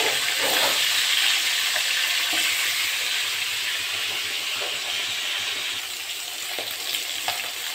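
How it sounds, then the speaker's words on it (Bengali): Fish frying one by one in hot oil in a pan with five-spice seeds, giving a steady loud sizzle and crackle with scattered small pops throughout. "তেলটা গরম হয়ে গেছে, মাছগুলো এবারে দিয়ে দিচ্ছি। মাছগুলো এক এক করে ভেজে নিচ্ছি।"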